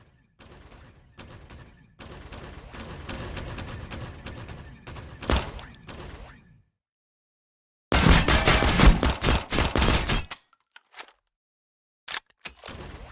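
Gunfire from guns in the survival shooter Dysterra, a string of rapid shots in bursts broken by short gaps and silences, with a dense, loud volley in the middle and a few isolated shots near the end.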